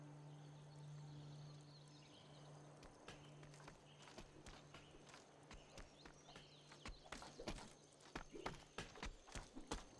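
Hooves clip-clop from German chariot archer units moving in Civilization 5, a rapid, uneven patter that grows louder and denser toward the end, with a low steady game drone underneath.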